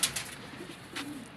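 Pigeons give soft, low cooing calls close by, a couple of brief throaty coos among faint rustling and background hiss.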